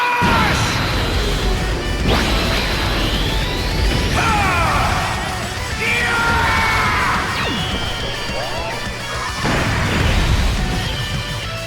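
Vegeta's Final Flash attack in a Dragon Ball video game: a barrage of loud crashing impacts, sweeping energy whooshes and sizzling beam sounds recurring in bursts every couple of seconds.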